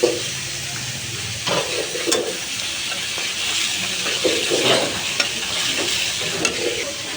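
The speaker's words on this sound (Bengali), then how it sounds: "বাটা মরিচ দিয়ে দিব।" Ground chili paste frying with onions for a dried fish dish, a soft continuous sizzle and hiss with occasional stirring scrapes, moderate and close, no speech.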